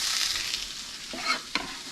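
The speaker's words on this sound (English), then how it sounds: "I'm going to throw the tomatoes in." Tomatoes go into a pan of frying squash scramble, a continuous close sizzle with a couple of soft stirring scrapes and a small clatter near the end, no one talking.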